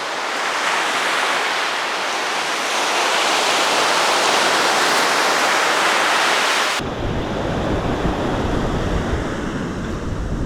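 Ocean surf breaks on a California coast beach in a steady, loud, continuous roar of crashing waves, with a rumbling low wash in the second half and no voices.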